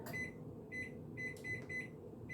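A kitchen timer being set gives a series of short, high electronic beeps at irregular intervals, clear over a low steady kitchen hum.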